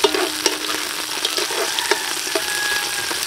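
Ginger sautéing in a cooking pot sizzles steadily and loudly up close, with scattered scrapes and clinks of stirring throughout.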